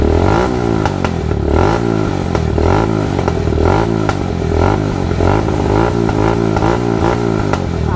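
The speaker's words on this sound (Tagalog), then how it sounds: "Yun po yung tunog ng" A Honda MSX 150 motorcycle engine with a Keihin PWK flat-slide racing carburetor runs loud and close, a steady rough chugging with a rattly clatter that never lets up.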